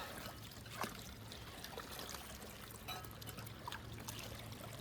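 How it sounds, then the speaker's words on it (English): Water trickles and swirls where it backs up behind pieces of wood in a county ditch, a steady close gurgle with faint splashes throughout and no talk. "the water was swirling around here because it's backing up behind these pieces of wood on it"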